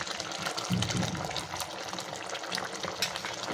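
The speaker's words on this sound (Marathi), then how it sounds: "वाटणाच्या भांड्यामध्ये थोडं पाणी टाकून ते त्याच्यामध्ये टाकून घ्यायचं आहे" Wet grated coconut paste thinned with water is poured into a pot of Konkani-style clams, giving a soft, continuous splashing gush over a faint bubbling simmer, fairly quiet and without talk.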